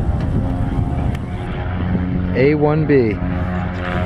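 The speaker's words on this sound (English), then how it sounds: "First flight in Aviat Aircraft Husky." An Aviat Husky light aircraft's engine drones steadily and close from inside the cabin during flight, with voices talking over it.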